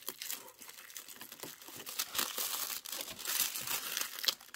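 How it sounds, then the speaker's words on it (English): Paper is peeled back from an embroidery hoop during quilt block stitching, a close, continuous crinkling and tearing rustle with irregular louder crackles, no one talking. "we're going to peel this all back"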